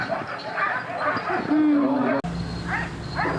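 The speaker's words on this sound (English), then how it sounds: "As the lead dogs set the pace, the rest of the team falls in behind her." A team of sled dogs yips and barks in quick bursts during a fast run across a lake, heard under a steady rushing background and a narrator's voice.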